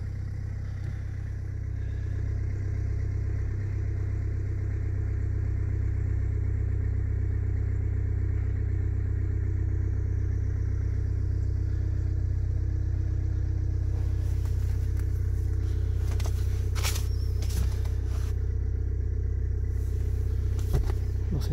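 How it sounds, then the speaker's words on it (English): Toyota Yaris D4D diesel engine, 73,618 miles, push-button started and left idling: a steady, loud low-pitched drone running throughout, with some light clatter and a few brief knocks near the end. "We just press and hold. Starts on the button."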